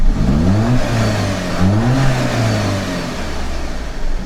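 A 2014 Audi A6 turbo engine revs repeatedly against its soft limiter, rising and falling in two loud surges with a droning intake note, recorded close inside the car.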